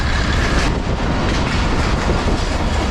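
Mohenjo-Daro passenger train running along the main line in Pakistan, heard from on board as a loud continuous rumble of wheels on rails with faint rhythmic clatter throughout.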